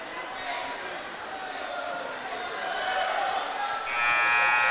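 A buzzer sounds at a celebrity basketball game held by the Seneca County Board of DD, a steady electronic tone near the end rising over crowd noise and cheering from a gym audience.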